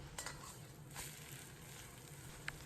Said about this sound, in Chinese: 把豆腐煎至4面金黄